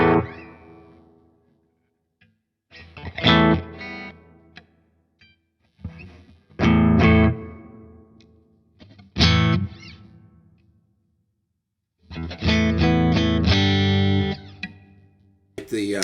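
Electric guitar with Duncan 59 pickups on a clean tone, played in separate bursts of strummed chords and short phrases with silent gaps between, moderately loud and close.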